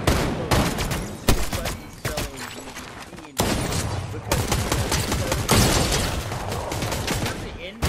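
A Magic Missile spell fires in a video game, rapid bursts of sharp crackling impacts in dense volleys, loud and close, with a few abrupt pauses between barrages.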